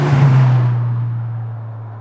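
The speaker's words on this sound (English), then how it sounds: "This is going to give you a drive-by sound effect, which is going to sound so much cooler for those shots where the car flies by you" A car passes close by and recedes, a loud low engine drone that fades steadily as it moves away over two seconds, with no voices.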